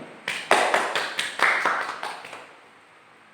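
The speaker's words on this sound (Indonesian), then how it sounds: "Tepuk tangan untuk kelompok 1 karena sudah menyampaikan presentasinya hari ini." A classroom of students claps for a group after its micro-teaching presentation: brief, scattered hand claps and taps at moderate level that fade out within a few seconds.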